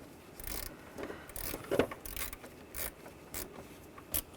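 Bolts being tightened on a transmission cooler of a 2009-2017 Volkswagen Tiguan, with short ratcheting clicks and metallic clatter in scattered bursts, fairly faint and close, with no talk.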